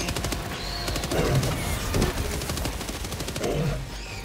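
Gunfire in the video game Helldivers 2, a rapid automatic burst that rattles on steadily for several seconds, loud and close, with rumbling blasts mixed in.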